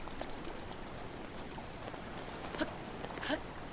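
Steady rain falling in the open world of Zelda: Breath of the Wild, a soft continuous hiss at moderate level with a couple of brief sharper taps near the end, no talking.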